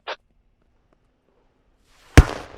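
A sharp explosion from a tactical shooter video game, one sudden loud blast that rings out briefly after a tiny click and near silence.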